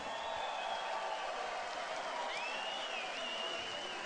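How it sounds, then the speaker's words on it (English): Faint, distant applause from a large boxing crowd after a heavyweight bout, a steady wash of clapping. "can we please have a round of applause for these two heavyweight warriors?"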